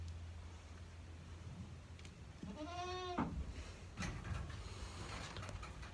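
A single goat in a barn lets out one clear, wavering bleat partway through, loud and close, set against a low steady hum and some faint background knocks.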